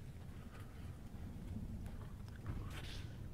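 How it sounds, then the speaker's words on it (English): Strong wind buffets a camper, a steady broadband roar with low rumbling gusts that swell and ebb throughout, close and loud with no clear pauses. "Oh man, this wind is ridiculous."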